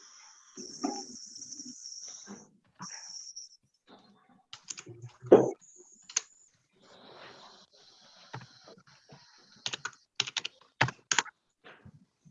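Keystrokes on a computer keyboard during spreadsheet data entry come as scattered, faint clicks in short bursts separated by quiet pauses.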